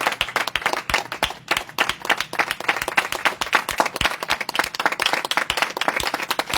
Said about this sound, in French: Acclamons le Seigneur Jésus